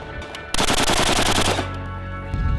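Loud rapid burst of automatic gunfire during military weapons training at a range, about one second of close, rattling shots with echo trailing afterward.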